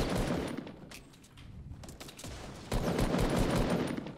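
Gunfire in the video game Fortnite, with repeated bursts of shots crackling over a busy game mix, dipping briefly and then swelling louder toward the end.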